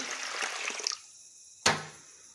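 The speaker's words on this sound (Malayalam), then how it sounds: "ഒരു കപ്പ് വെള്ളം ഒഴിക്കുന്നുണ്ട്" Water pours into a bucket for about a second, a soft splashing rush, then silence broken by one sharp knock.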